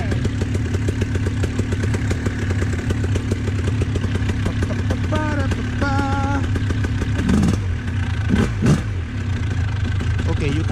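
A paratrike engine running before takeoff, a loud continuous buzzing motor with rising and falling revs, recorded up close, with people talking over it.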